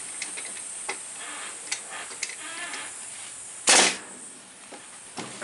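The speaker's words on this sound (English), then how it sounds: "I'm going to go barely up here and shoot me a staple" A staple gun fires a staple into a wooden swarm trap, one sharp snapping crack amid faint ticks and light handling noise.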